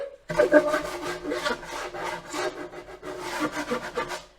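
Rhythmic back-and-forth rasping of sandpaper on a wooden porch sign board, close and fairly loud, with repeated strokes at a steady pace.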